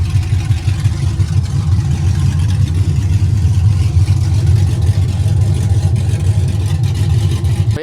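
An OBS truck engine runs loud and close, a heavy, continuous low rumble that holds steady for several seconds before cutting off abruptly at the end.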